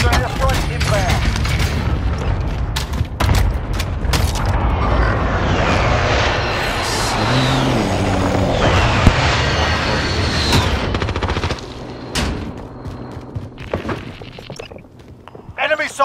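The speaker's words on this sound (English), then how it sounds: "Friendly precision airstrike inbound" Precision airstrike explosions in Call of Duty: Modern Warfare, heavy booming blasts and gunfire rolling continuously for about eleven seconds, loud and close, then dropping to scattered shots and rumbles, with voice callouts heard over the battle.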